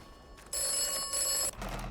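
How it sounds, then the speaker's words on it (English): An in-game telephone rings in the video game Atomfall: two short electronic bursts, close and clear over a quiet ambient background. "Phone's ringing again."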